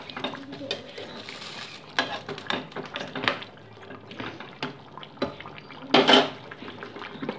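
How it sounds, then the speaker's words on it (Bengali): A roasted cumin-coriander paste is stirred into a potato and bean curry in a pot, with intermittent spoon scrapes and knocks against the metal over faint bubbling. "আমি বেটে রাখা জিরে আর ধনে, রোস্টেড জিরে ধনে বাটাটা দিয়ে দিচ্ছি এর উপর দিয়ে ঝোলের মধ্যে মশলাটাকে ভালো করে মিশিয়ে নিচ্ছি আমি।"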